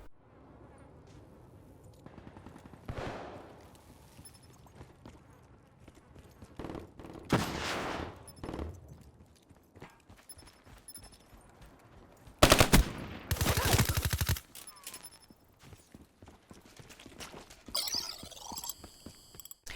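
Automatic assault rifle fire in a Call of Duty-style team deathmatch game, with scattered shots and a loud dense burst late in the stretch, amid quieter game noise.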